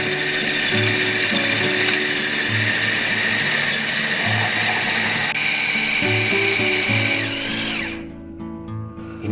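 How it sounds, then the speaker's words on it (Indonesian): A food processor grinding seasoned meat with pepper into a smooth paste, a steady loud motor whine with rhythmic thumping underneath that runs continuously before winding down and stopping near the end. "Sekarang langsung kita haluskan."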